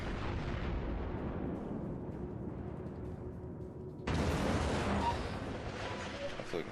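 Battleship guns firing in World of Warships, a heavy booming blast that decays into a long rumble, then a second sharp burst with crackling debris.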